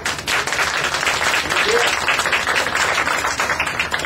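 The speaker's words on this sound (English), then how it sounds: "let's give him a round of applause." A large audience claps steadily, a dense wash of applause that holds at full strength from start to finish.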